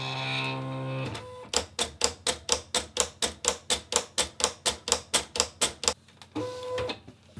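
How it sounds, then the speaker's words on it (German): Cutting plotter slicing an Easter card from cardstock, a quick run of about twenty rapid, evenly spaced mechanical clicks and whirs, close and clear, framed by a motor hum before and after. "Und anschließend kann ich das an meinen Plotter übergeben."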